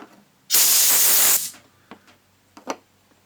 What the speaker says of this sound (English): Now we're going to use some compressed air to see how quick that takes